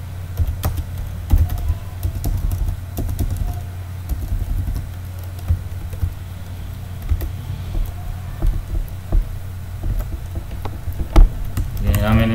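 Someone types a bank name into an accounting form on a computer keyboard, giving a steady patter of close key clicks with a few heavier taps over a low background hum.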